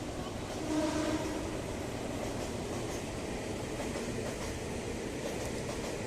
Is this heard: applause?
no